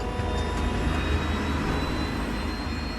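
Airliner jet engine spooling up with flaps set at 20, a steady loud broadband roar with a rising whine, continuous and close throughout.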